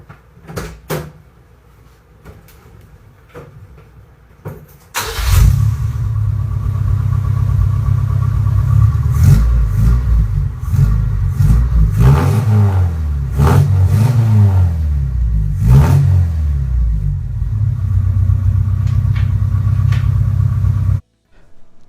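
A car engine fires up and revs hard in a long, loud, continuous burst with rising and falling surges, as in a burnout, then cuts off abruptly.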